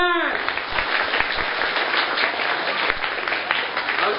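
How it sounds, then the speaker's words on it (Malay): Schoolchildren at a primary school religious talk clap together on cue, a loud, dense burst of many small hands that starts abruptly after a brief tone and continues evenly for several seconds. "semua tepuk tangan. Tepuk tangan."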